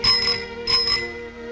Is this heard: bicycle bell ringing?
yes